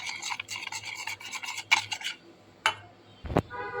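Mango pulp cake batter being whisked in a bowl, a quick run of rhythmic scraping strokes followed by a few separate sharper scrapes and clinks, close and fairly quiet.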